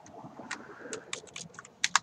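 Bursts of keystrokes on a computer keyboard during a live stream, a handful of irregular clicks ending in two sharp louder taps, close and clear over a faint background hum.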